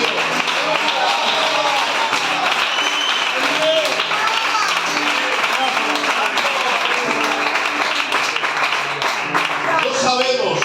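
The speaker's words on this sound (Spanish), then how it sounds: "Un aplauso para Dios." A church congregation claps for God, continuous clapping and tapping held at a steady level throughout under voices and background sound.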